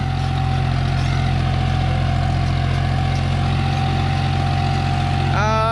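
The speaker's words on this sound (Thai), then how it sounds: "ในรอบต่ำเครื่องยนต์เหมือนจะดับแต่ไม่ดับนะครับ แรงยังมาอยู่รถยังไปได้" A John Deere 5045D tractor diesel engine idles steadily at low revs, a deep, even chugging drone that runs continuously and fills the whole stretch.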